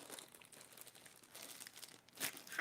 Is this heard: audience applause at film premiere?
no